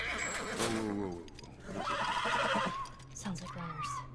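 A horse whinnies in the video game The Last of Us, with a shrill neigh rising over game dialogue as voices talk through it.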